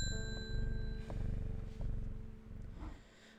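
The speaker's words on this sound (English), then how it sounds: "Ding goes the bell." A bell in the game Strange Horticulture rings with a clear, sustained tone that lingers over a low purring hum, followed by a few softer taps and rustles.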